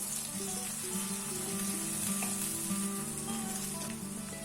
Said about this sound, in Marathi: छानपैकी फ्राय करून घ्यायचं मस्त ह्याच्यामध्ये कुक होईपर्यंत